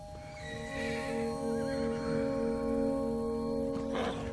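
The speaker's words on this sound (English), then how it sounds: "in this shot, there's 2 riders on those 2 black horses" Horses whinny on a film set, one drawn-out neigh rising over a busy background of hoofbeats and movement, fairly close and with no speech.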